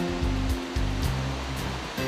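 Water rushes steadily near a waterfall along a trail in Chapada dos Veadeiros, a dense constant roar with a low droning layer beneath it and no voices.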